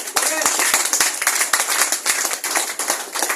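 An audience at a talk on diabetes clapping loudly, a dense continuous patter of many hands close by, with voices mixed in.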